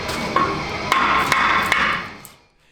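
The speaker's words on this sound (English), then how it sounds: "Let's try our small hammer." A small hammer strikes the brake caliper assembly of a Ford F250, with roughly five sharp metallic taps spread over about two seconds amid a steady, noisy background, ending in near silence.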